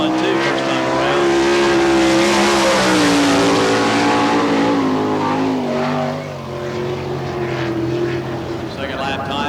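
A sprint car roars loudly and steadily at Barberville speedway during an All Star Circuit of Champions qualifying lap, its engine note rising and falling with a fainter engine behind, under a track announcer's voice.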